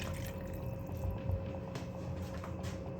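Half a cup of water poured into a rich stock-based sauce for romesco caponata, a short, close liquid pour with faint dripping and splashing for a few seconds.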